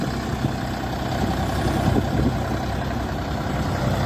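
Diesel engine of a DongFeng 244 Lux tractor on wide 11.2-24 tires idles steadily nearby, a continuous low rumbling drone without pauses.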